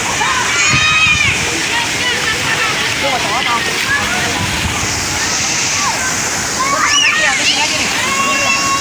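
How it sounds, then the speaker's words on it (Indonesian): A child swims in a pool at Tirtamas Modernland in Tangerang, with steady sloshing and splashing water filling the scene while people talk and shout nearby. "tuh anak gua lagi berenang guys"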